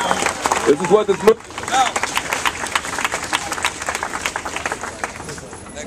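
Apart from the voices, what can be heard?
audience applause at a rally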